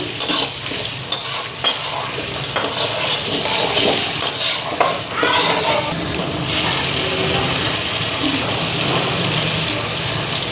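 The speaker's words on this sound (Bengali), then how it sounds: "জিরা ফোড়ন দিয়া তেজপাতা ফোড়ন দিচ্ছি" Cumin seeds and bay leaves sizzle and crackle in hot oil, a loud, steady frying hiss with stirring scrapes, busier at first then settling into an even sizzle.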